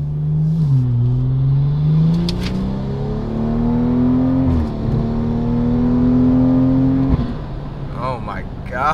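A car on Mickey Thompson drag radials accelerates hard on a road, its engine tone climbing steadily in loud sustained pulls with a shift, heard from inside with some talk.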